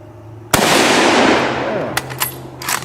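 A Mauser Kar 98K rifle fires a single loud, sharp shot with a long decaying echo, followed by a few fainter clanks and knocks of the bolt being worked.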